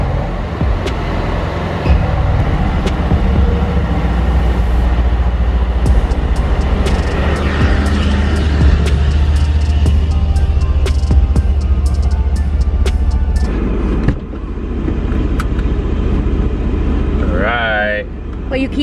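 A Mercedes-AMG engine roars loud and steady as the car accelerates, with broad throbbing rumble and road noise throughout and a brief shift in tone near the end.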